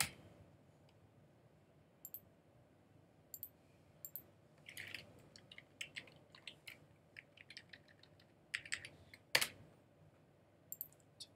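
Faint, irregular clicking of a computer keyboard, scattered light key taps and short clusters over a quiet background, with one louder clack near the end.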